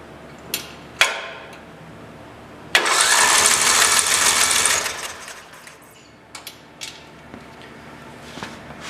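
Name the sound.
racing lawn mower engine cranking with spark plug removed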